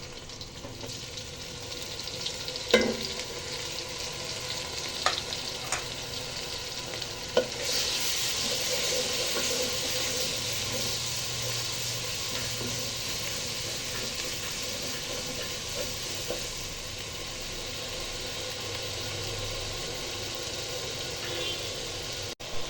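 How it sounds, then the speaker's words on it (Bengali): Spices sizzle and fry in a pan for vegetable khichuri (salt, turmeric, chili, coriander, ginger-garlic, cumin powder), a steady hiss with occasional stirring scrapes and clinks, close and moderate in level. "এই তো আমার মশলা কষানো হয়ে গেছে।"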